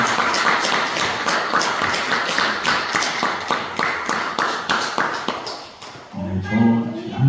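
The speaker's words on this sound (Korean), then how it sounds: "다시 한번 박수 부탁드립니다" Church congregation clapping after a prayer, a dense run of overlapping claps that thins and stops, followed briefly by a voice.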